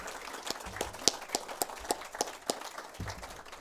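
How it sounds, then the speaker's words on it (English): Sparse clapping from a small audience at the 2021 SA Landcare awards ceremony, a handful of distinct claps spaced irregularly, fairly faint and thin rather than a full round of applause. "we certainly like to applaud them for those highly commended awards"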